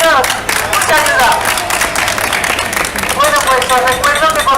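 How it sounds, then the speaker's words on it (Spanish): Crowd clapping at an outdoor clean-air rally, brisk uneven claps from a gathered group mixed with loud talk and shouting voices over the top throughout. "pues un aplauso para ellos"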